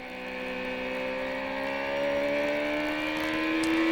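A CART race car engine during qualifying at Mid-Ohio, a steady tonal whine that shifts slightly in pitch and gradually swells louder as the car comes closer, with no voices.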